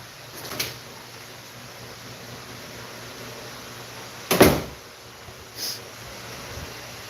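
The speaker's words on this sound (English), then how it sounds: "Close the door." An indoor door closes with a sharp, close thud in the middle of a quiet room, bracketed by a couple of fainter knocks and clicks before and after.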